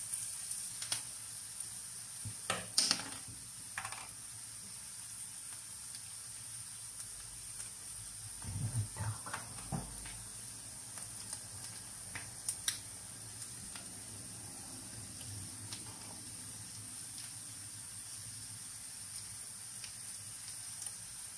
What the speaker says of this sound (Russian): ну лук наш уже отлично обжарился, и мы добавляем томатную пасту